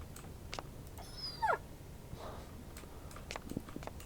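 A kitten gives a single short, rising crying meow in the Fork Road video game, heard once mid-way over quiet background noise with a few faint soft taps around it.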